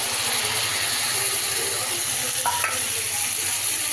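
A ground paste of cumin, ginger, onion, garlic, dried chilli, coriander and tomato sautés for egg curry, giving a steady, close frying hiss with faint scraping and stirring and no talk.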